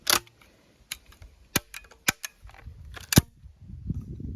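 A series of sharp, isolated metallic clicks and snaps at irregular intervals, close and dry, as an IZh-27E shotgun is dry-fired, with light handling noise between.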